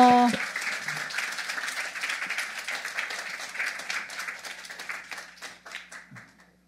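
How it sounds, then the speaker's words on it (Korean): A church congregation bursts into warm applause for a visiting pastor, many hands clapping at moderate volume after a short spoken line, then fading out gradually. "우리 크게 박수하겠습니다"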